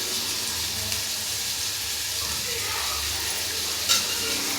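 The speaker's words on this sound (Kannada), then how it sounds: "ಒಂದ್ಸರಿ ಚೆನ್ನಾಗಿ ಫ್ರೈ ಮಾಡಿ" Two lengthwise-sliced tomatoes fry in oil in a pan for anjal fish biryani, giving a steady, close sizzle throughout, with a brief clink of stirring near the end.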